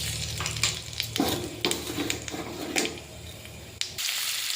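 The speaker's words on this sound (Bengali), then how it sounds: "এবার ফোড়নে দিয়ে দেবো কালো জিরে," Black cumin seeds crackle and sizzle in hot oil for a pabda fish curry with mustard and poppy seed, close up, with sharp clicks and scrapes from stirring before the sizzle briefly drops near the end.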